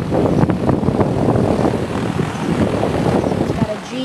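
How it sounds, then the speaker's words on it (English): A Carrier HVAC outdoor unit runs in cool mode with a GE fan motor at 800 RPM and a scroll compressor, giving a steady close-up whooshing roar of blowing air, with talking over it. "It's blowing out quite a bit of air."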